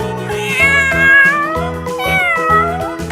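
A cat meows loudly several times in a row, drawn-out tonal cries close up with no other sounds.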